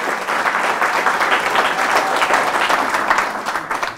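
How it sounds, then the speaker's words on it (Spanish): Loud, sustained applause from a church congregation at a Mass, with steady clapping that swells and fades slightly toward the end. "Fuertes aplausos al Rey de Reyes y Señor de Señores."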